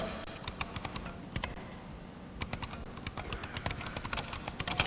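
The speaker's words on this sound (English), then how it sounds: "and now I can type" Rapid keystrokes rattle on a computer keyboard at a 1992 PC trade show demo. The clicks come in quick irregular bursts with a short pause near the middle, close and clear over a faint background murmur.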